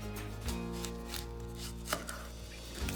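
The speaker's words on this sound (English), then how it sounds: "So really large cuts on everything so that it can get going." Knife chopping vegetables such as red pepper and onion into large chunks on a cutting board for a blender, several distinct thuds at an uneven pace, close and clear, no talk.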